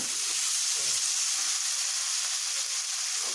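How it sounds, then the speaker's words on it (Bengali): Half-ripe tomato frying in a pan of oil for a small fish curry, a dense continuous sizzle heard up close with faint stirring. "এটা আমি দিয়ে দিব দিয়ে এটা একটু ভেজে নেব"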